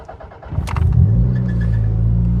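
An older Toyota MR2 engine cranks and catches, then settles into a steady, close, rumbling idle after a brief rev.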